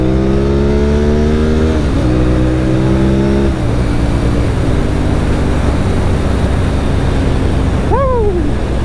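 A 2006 Honda RC51 sport motorcycle revving up through gears nearby, rising whine with shifts, then a rough roar and a brief sharp pitch swoop near the end.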